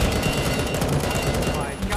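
Dense, rapid gunfire in the game Garry's Mod DarkRP, loud and continuous over a short burst, with voices shouting underneath.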